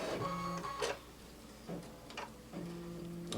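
A Baby Lock Radiance sewing machine starts stitching, its motor whirring in short rhythmic runs separated by brief pauses and clicks, close and steady with no voices.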